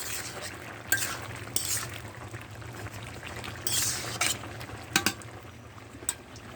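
Shrimp cooking with papaya and bitter gourd in an uncovered pan, a low continuous sizzle broken by several sharp scraping stirs and clinks of a spatula against the pan.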